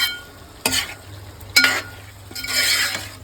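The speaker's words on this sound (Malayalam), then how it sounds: "തേങ്ങക്കൊത്തൊക്കെ ഇട്ട് കൊടുത്ത് ഇനി നമുക്കൊന്ന് ഇളക്കി കൊടുക്കാം." Already-cooked beef with coconut pieces stirred in a pan: three distinct scraping strokes of a spoon through the pan over a low sizzle, close and without talk.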